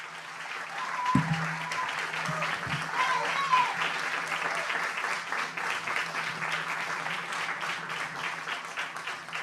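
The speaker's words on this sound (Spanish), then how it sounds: "el aplauso inicial" Sustained audience applause fills the hall at an opening ceremony for a cultural institute, steady and dense throughout, with a brief low thump near the start.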